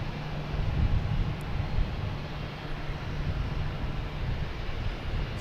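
A Porter Airlines plane departs Boston Logan for Toronto with a steady, distant low roar of engine noise that holds evenly throughout, with no voices.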